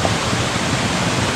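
A small waterfall at Warnagala, Sri Lanka pours in a loud, steady broadband rush of falling water, heard close and unbroken with no other sounds.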